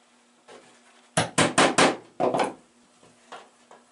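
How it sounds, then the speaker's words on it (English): A 16 ounce hammer strikes wood up close: a quick burst of four sharp blows, a short pause, then a double hit followed by two lighter taps. "At least you're only using the 16 ounce."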